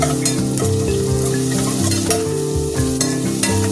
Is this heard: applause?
no